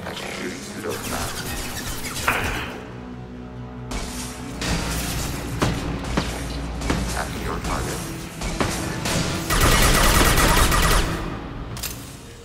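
A hacked turret in Mass Effect 2 fires rapid bursts of gunfire against Geth, loud and close, followed near the end by a heavy, sustained explosion roar that cuts off abruptly.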